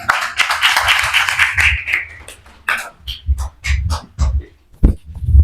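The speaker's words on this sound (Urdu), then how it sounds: "محترمہ مہرین بطول کو دعوت دیتا ہوں کہ وہ اسٹیج پر تشریف لائیں آپ کی بھرپور تالیوں کے ساتھ" Audience applause welcoming a poet to the stage at an Urdu poetry book ceremony: a dense burst of clapping that thins out after about two seconds into scattered, separate claps.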